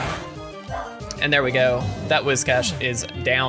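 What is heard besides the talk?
dog barking in the background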